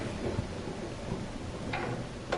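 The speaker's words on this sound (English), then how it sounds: "And there's a thunderstorm." A thunderstorm in the video game Gone Home: steady rain hiss with a low rolling rumble of thunder and a couple of brief crackling bursts.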